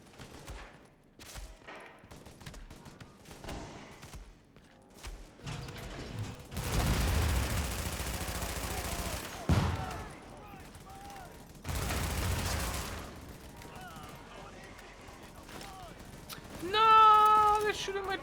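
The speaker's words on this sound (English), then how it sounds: "they're shooting my turret" Rapid bursts of enemy gunfire hitting a deployed turret in The Division, loud dense rattling stretches broken by quieter gaps with scattered shots and mechanical clatter.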